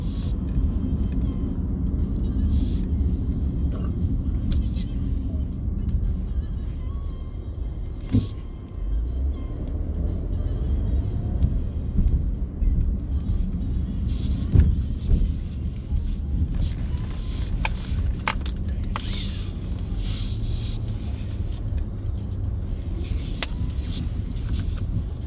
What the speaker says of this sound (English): A lot of cars in this parking lot.